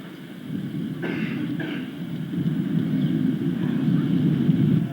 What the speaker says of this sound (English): Pasó un avión ahorita arriba